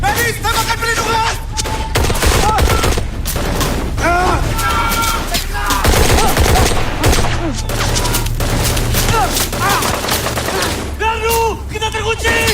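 Heavy, sustained covering gunfire in a film crackles in rapid overlapping bursts, with shouting voices mixed in throughout a loud, chaotic battle.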